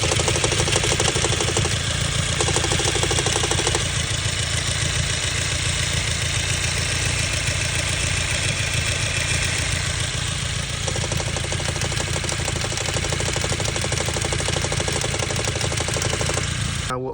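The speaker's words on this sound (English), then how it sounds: "My alternator went bad and it was making this weird sound." A 2015–2021 Subaru WRX engine with a failing alternator runs steadily and loudly up close, a constant mechanical drone with a faint rattling whine throughout and no talk.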